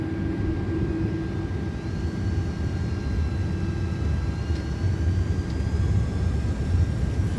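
A Delta Airbus A330 rolls into its takeoff on runway 04 left. The engines give a steady broadband roar with a low rumble and a faint rising whine, heard evenly from the cockpit without speech.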